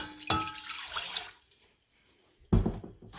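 Water poured from a tap or jug into a cooking pot for honeybee fondant, a short splashing pour at the start, then near silence and a second brief burst of running water toward the end.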